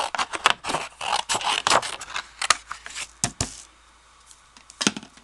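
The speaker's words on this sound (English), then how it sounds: "I'm going to cut this apart." Scissors snip through stamped cardstock in a string of sharp, close crisp cuts, irregular in rhythm, then a pause and a few final snips.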